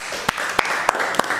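A class applauding in a lesson, soft steady clapping with several sharper claps at regular intervals, brief and fairly close.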